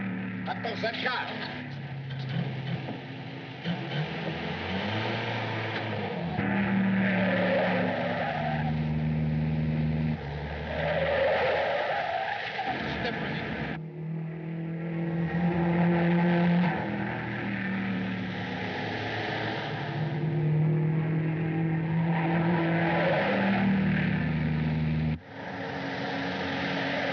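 Car chase scene from a 1939 Charlie Chan mystery film: a steady engine roar with bursts of tire skidding runs throughout, under frequent overlapping speech and dramatic background sound.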